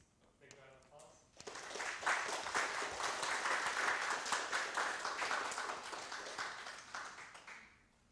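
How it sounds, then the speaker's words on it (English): Applause from a tech meetup audience for a speaker. A voice talks briefly at the start, then steady clapping from a modest crowd swells and continues before tapering off. "let's give James a big round of applause"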